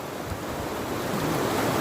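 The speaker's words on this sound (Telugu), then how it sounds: "కొట్టున్నాయి నీళ్ళు చూడు" Floodwater rushes with force through Tirupati during heavy rain, a loud, continuous broadband roar of churning water that swells slightly toward the end, close to the microphone, with no voices.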